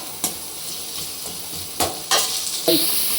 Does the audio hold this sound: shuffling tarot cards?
no